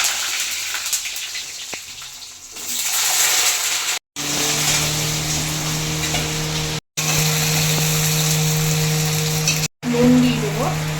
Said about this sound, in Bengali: তেলের মধ্যে দারচিনি, লবঙ্গ, এলাচ ফোড়নে দিয়ে দেবো। গোটা জিরে দেবো, আলুটা দিয়ে দিয়ে দেবো।